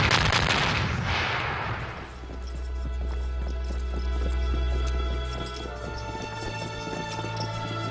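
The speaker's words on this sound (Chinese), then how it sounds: "放炮相迎。" Ceremonial cannons fire a salute at a Qing-era general's camp in a historical drama, a loud booming blast with a long rumbling low tail that fades out, with no talk over it.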